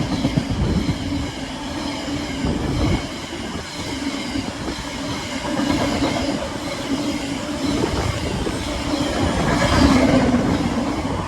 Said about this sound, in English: the next freight train to pass through is going to be a movement from Ableford Sidings to